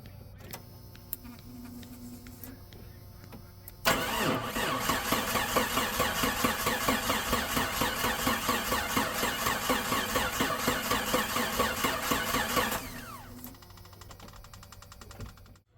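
A 1987 Jeep Cherokee engine is cranked for about nine seconds in a fast, rhythmic churning that never catches, then stops, leaving a quiet background hum.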